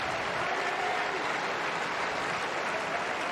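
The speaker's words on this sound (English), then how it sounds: "Italian crowd trying to urge Paolini back into this" Italian tennis crowd at a 2025 Rome WTA match applauding, a dense, steady wash of clapping filling the space throughout.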